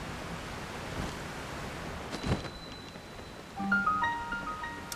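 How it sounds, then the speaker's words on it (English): A waterfall in the video game The Legend of Zelda: Tears of the Kingdom gives off a soft, steady rushing hiss, with bright chiming musical notes joining near the end. "That's a waterfall."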